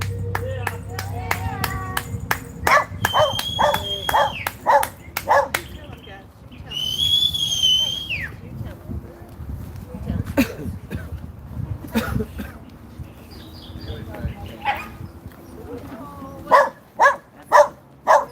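A dog barks in short repeated bursts that come and go amid people talking, with sharper bark clusters near the end.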